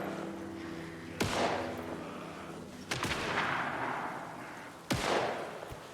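Three gunshots from a distance in the video game Alan Wake 2, each a sharp crack with a rolling echo, spaced about two seconds apart against a low ambient background.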